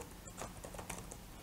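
Quiet clicks of a computer keyboard come in an irregular run of keystrokes, close and faint, with no one talking.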